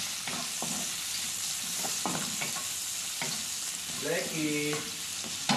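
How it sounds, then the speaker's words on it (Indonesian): Garlic and shallots sauté in a hot pan with a close, steady sizzle and a few spatula scrapes. Brief speech comes in near the end. "Bawang putih, bawang merah sampai harum."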